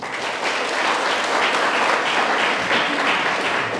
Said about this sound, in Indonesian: kita tepuk tangan dulu kepada remaja dan naposo bulung ini.